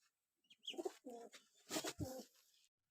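Soft, low pigeon coos repeat in a few short phrases nearby, with quiet pauses between them.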